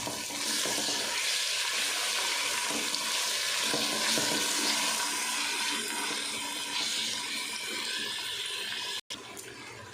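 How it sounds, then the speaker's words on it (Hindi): Minced meat keema fries in a pan with ginger and garlic, giving a continuous loud sizzle and crackle with faint stirring scrapes, no voices. "कीमे की हमने अच्छे से भुनाई कर लेनी है, इसका पानी बिल्कुल खुश्क कर लेना है।"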